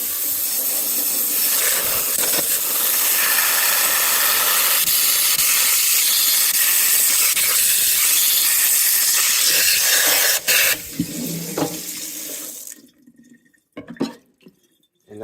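Water sprays hard from a HEISOK kitchen faucet head into a sink, a loud, steady hiss lasting about ten seconds before cutting off, followed by a few faint drips and clinks.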